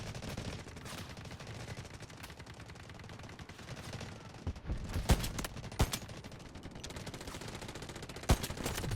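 Sniper rifle shots in the mobile shooter Delta Force Mobile ring out as a few sharp, isolated cracks over a steady bed of game ambience and distant gunfire, with no speech.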